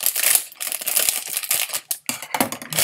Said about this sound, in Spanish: ahorita le damos matarile aquí con las tijeras